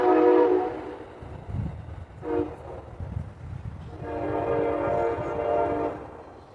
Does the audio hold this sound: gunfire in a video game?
no